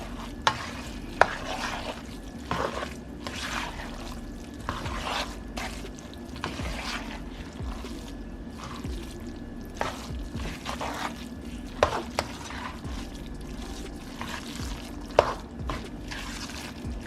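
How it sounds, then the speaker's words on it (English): Cheddar cheese is stirred into a shrimp and rice dish in a pan, giving soft repeated scraping strokes with a faint sizzle underneath, quiet and without talk. "we're going to mix that in"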